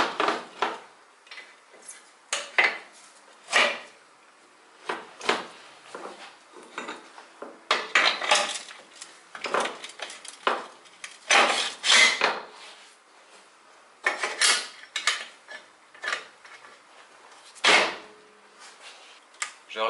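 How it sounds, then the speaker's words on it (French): A bicycle wheel being refitted during a chain replacement, with a run of sharp metallic clicks, clanks and knocks coming in bursts at close range, some louder than others, separated by short quiet gaps. "Ensuite, je viens remettre ma roue."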